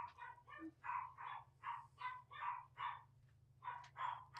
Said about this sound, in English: My dog that is barking, someone just rang our doorbell for some reason.